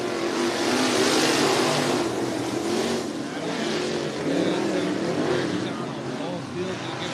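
Dirt track race cars take the green flag for a heat race at Cottage Grove Speedway in Oregon, engines roaring loudly and continuously with a race announcer talking over them.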